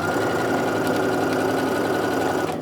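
A sewing machine stitching a quilt seam, running steadily in a fast, even mechanical whir with a rapid needle rhythm up close, then stopping abruptly at the end.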